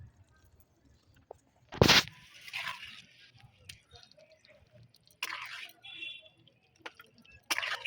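Semolina paan pitha poured into sugar syrup, giving soft wet squishing and dripping sounds with a sharp splash near the start and a few quieter sloshes, close and fairly faint.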